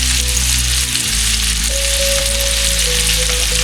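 Meatballs fry in a hot pan with a steady, dense sizzle that runs unbroken throughout, close and loud, with a faint tonal hum in the background and no voices.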